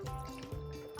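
Sauce is poured into a pan of pasta, a soft, quiet glugging trickle close by.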